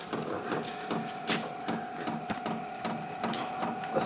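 Vevor 12V diesel air heater (8 kW, 17060 BTU) starting up indoors, a steady whirring hum with a rhythmic clicking pulse repeating about every half second, moderately close and without talk.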